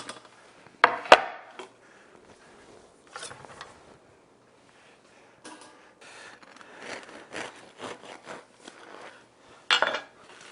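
A knife saws through a freshly baked golden loaf of crusty homemade bread, giving scattered crackling crunches and scraping strokes, a sharp crack near the start and another near the end, with quiet gaps between.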